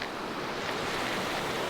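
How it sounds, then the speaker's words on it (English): Spring-fed river water flowing beside a golf green, a steady broadband rush with no distinct splashes, close and constant throughout. "all of this water comes from a spring just right out of the hill or the mountainside right there"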